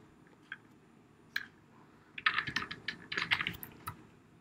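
Keys clatter on a computer keyboard: a few isolated taps, then a quick run of typing in short bursts, close and clear with no talk.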